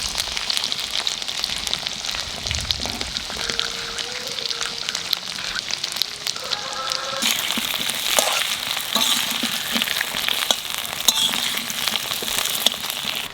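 Potatoes fry in oil in a kadai for a Bengali hilsa fish curry, giving a steady, close, crackling sizzle with occasional stirring and no talk.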